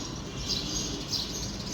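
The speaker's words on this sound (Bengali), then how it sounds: "পাখির ডাক নিশ্চয়ই সবাই শুনতে পাচ্ছেন।" Birds chirp in a quiet, empty lane in Bangladesh on a still morning: two brief, high chirps stand out over a steady, soft outdoor hiss.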